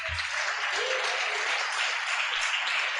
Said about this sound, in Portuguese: Todas as palmas são para Jesus.